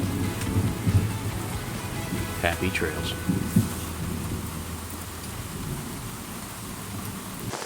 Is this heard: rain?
yes